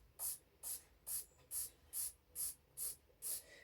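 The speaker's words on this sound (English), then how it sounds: "So I'm going to spray my room 10 times." Salvatore Ferragamo Uomo fragrance spritzed into a room in eight quick, evenly spaced bursts of a pump atomiser, each a sharp close hiss, with quiet between sprays.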